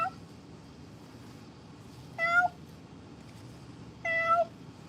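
Two separate cat meows, about two seconds apart, ring out clearly over a low steady background hum while the cats are being fed canned food.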